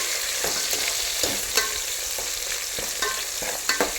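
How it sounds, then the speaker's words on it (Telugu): Green chillies and onion frying in oil for mutton curry, a close, loud sizzle broken by repeated sharp stirring scrapes in the pan, with no voices. "ఈ పచ్చిమిర్చి కూడా ఆనియన్ తోటి మంచిగా వేగేటట్టు వేయించుకోవాలి ఆయిల్లో."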